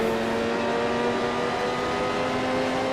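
A vintage race car in the Grand Prix Legends racing game runs at high revs with a loud, sustained, buzzing engine whine under hard braking and a slide, with no talking.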